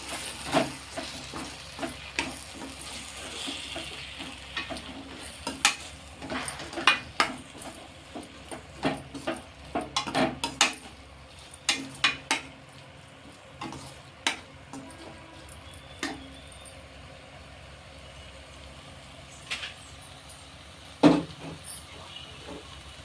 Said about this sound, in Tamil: இப்போ இதெல்லாம் கிண்டிக்கலாம்